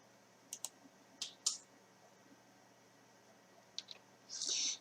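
A computer mouse clicks a confirm button: a few faint, sharp clicks spaced apart in a quiet room, ending with a brief, louder burst of clicking.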